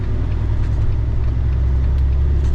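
A car cruising on a straight highway after leaving the Poltava route, a loud, steady low engine and road rumble heard from inside the cabin, continuous and without speech.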